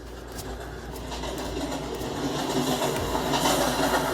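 A train running on a rail line in the Minecraft video game, a steady rumbling rail noise with faint clickety-clack that builds slightly louder over a few seconds, no talk.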